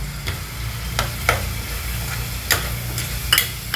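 Homemade garam masala of coriander, cumin, clove, cinnamon and pepper stirred into a sizzling cooked-tomato base for a pavta bean curry, a soft continuous frying hiss punctuated by several distinct spoon clinks against the pan, nearby and without speech.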